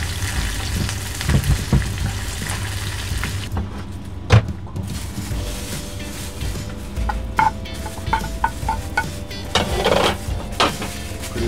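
Octopus stir-fries in a pan at a campsite, a steady loud sizzle broken by occasional sharp clanks and scrapes of a utensil against the pan.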